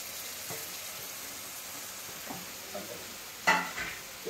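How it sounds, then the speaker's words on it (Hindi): Masala and tomatoes fry in a pan with a soft, low sizzle, joined by a few scraping stirs and a louder clatter near the end, all heard close with no voices. "अब ये मसाला भी टमाटर सब भून देंगे"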